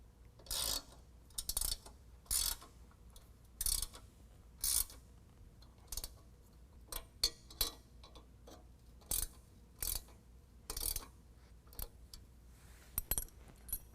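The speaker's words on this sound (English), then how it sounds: "I'm going to use a 13 millimeter on the serrated flange nuts and snug those up." A 13 mm wrench tightens serrated flange nuts on M8 bolts while a rack is fitted to a Retrax PRO XR bed cover on a 2022 Toyota Tundra. Short bursts of crisp ratcheting clicks repeat close by, with pauses between them and no talking.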